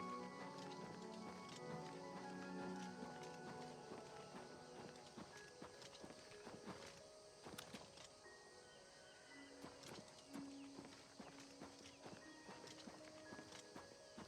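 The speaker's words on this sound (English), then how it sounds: "Thought I just heard a horse." Steady clip-clop of horse hooves walking in the video game Oblivion Remastered, moderately close, over a busy background of layered game music and ambience.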